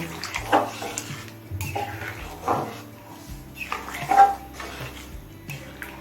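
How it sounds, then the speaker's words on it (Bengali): Water is poured into a cooking pan holding chicken, soybean and pea ghugni, then the mixture is stirred with a few splashy, sloshing pulses and utensil scrapes, close up and without talk. "এবার অল্প পরিমাণে একটু জল দিয়ে দেবো জলটা দিয়ে আরও একবার মিশিয়ে নেব"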